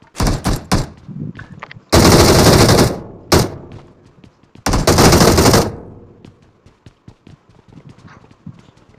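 A machine gun loaded with 75 rounds fires in PUBG Mobile: two long, loud sustained bursts between scattered single shots and quieter clatter.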